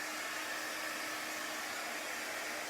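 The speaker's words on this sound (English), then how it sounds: "You can just use your blow dryer or just let it set for a few minutes." A blow dryer runs steadily to dry chalk paste, giving a constant, even hiss-like whoosh with no pauses, heard alone at a moderate level.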